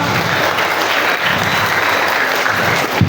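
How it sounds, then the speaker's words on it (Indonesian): Applause from a student audience at a school orientation session, a loud, dense clapping that continues steadily for several seconds, close and filling the room, with a few voices faintly under it. "Oke, tepuk tangan dulu dong."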